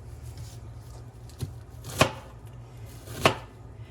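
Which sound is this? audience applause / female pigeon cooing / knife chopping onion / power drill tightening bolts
knife chopping onion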